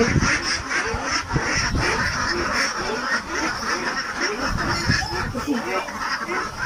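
Ducks quacking in a cluster, fairly close and continuous, mixed under people talking nearby.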